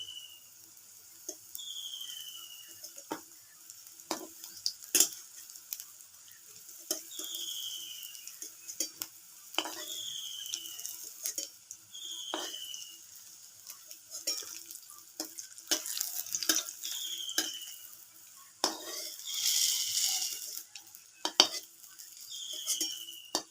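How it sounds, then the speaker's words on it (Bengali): Jackfruit fritters fry in oil in a pan, a quiet background sizzle punctuated by frequent metal utensil clinks and scrapes against the pan, with bright intermittent chirps audible in the room. "এইভাবে বাকি যে বড়াগুলো আছে আমি ভেজে নেব।"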